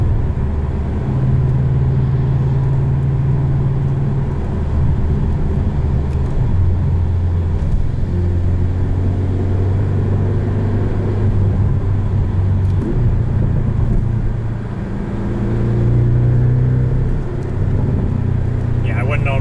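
A 2019 Porsche 718 Boxster S with sport exhaust drones steadily while driving, its engine note rising and falling over a constant road rumble, with people talking over it at times.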